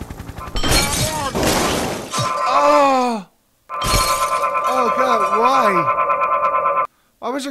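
Glass shatters with a sharp crash in the physics game Happy Wheels, followed by a character's groaning cries and comic wobbling sounds, loud and close, with a second burst after a short silence.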